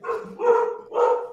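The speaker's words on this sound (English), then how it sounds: "please excuse that loud barking from my dog" A dog barks loudly three times in quick succession, close and clear, each bark sharp and slightly drawn out, with brief pauses between.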